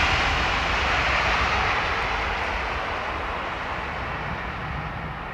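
An airliner on approach to London Heathrow, a loud, steady broadband engine roar that eases slightly as it passes, with no voices.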